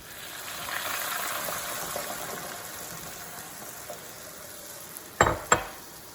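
Hot half and half poured into a hot pan, giving a soft steady sizzle that fades gradually, followed by two sharp clinks of a utensil against the pan near the end.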